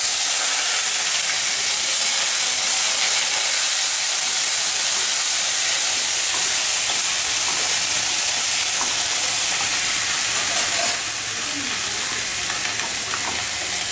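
Fresh coriander leaves sautéing in a hot pan for a tamarind-free coriander thuvaiyal, giving a steady, loud sizzling hiss with soft stirring scrapes throughout.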